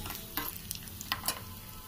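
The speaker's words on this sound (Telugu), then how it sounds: "ఈ ఆయిల్ వేడెక్కగానే తాలింపు గింజల్ని యాడ్ చేసుకోవాలి. మినప్పప్పు, ఆవాలు, జీలకర్ర, పచ్చిశనగపప్పు." Tempering seeds (urad dal, mustard, cumin and chana dal) frying in hot oil, a soft continuous sizzle with brief crackling pops and a few stirring scrapes, fairly quiet with no talking.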